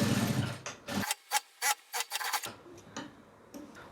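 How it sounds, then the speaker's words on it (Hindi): A sewing machine stitching the side seam of an off-shoulder blouse, heard as quiet, rhythmic needle ticks in short bursts, with softer mechanical whirring at the start and end. "सबसे पहले हम ये सीधे वाले पार्ट से सिलाई लगाएंगे एक, ये देखिए इस तरीके से।"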